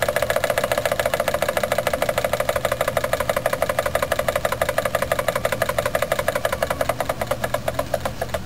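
A Jensen 25 model steam engine runs slowly with uneven drag, giving a steady rapid chuffing and mechanical knocking rhythm at close range, continuous throughout with no talk.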